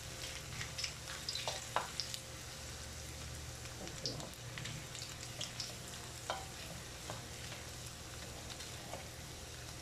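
Pork browns in a pan for ginataang baboy, a steady close sizzle and crackle of frying with occasional scrapes and taps of stirring throughout, moderately loud and continuous.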